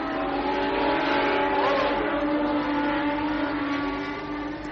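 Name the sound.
Formula One race cars at the 1977 Spanish Grand Prix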